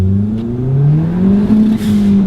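A turbocharged four-cylinder Ford Fiesta ST hot hatch accelerates with a steady, rising engine drone that climbs in pitch as revs build, loud and close with no talk over it.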